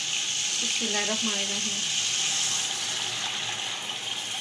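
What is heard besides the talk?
yakhni broth poured into fried beef for Kabuli pulao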